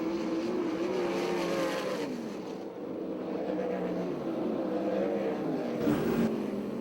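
USAC/CRA sprint cars racing in a heat race at Perris, California, engines roaring continuously with rising and falling pitch as the pack passes, loud and steady without talk.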